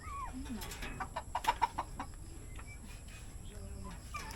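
A chicken clucks in short bursts, with a few quick sharp clucks in the middle, against a quiet outdoor background.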